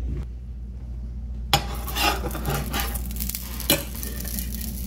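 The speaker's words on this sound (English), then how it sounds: "now what we're going to do is we're going to put some butter in the pan" Butter sizzles in a frying pan after a short quiet start, a steady close hiss broken by a few sharp clanks of a utensil against the pan, with no voices.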